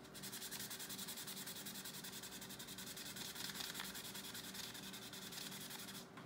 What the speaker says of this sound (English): So you just get a little bit of sandpaper, half the call.